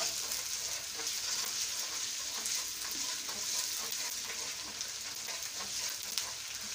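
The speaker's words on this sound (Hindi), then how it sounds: "मेरी फिश भी दूसरी तरफ फ्राई हो रही है" Fish fries in a pan with a steady, faint hiss of sizzling oil, continuous and even with small crackles throughout.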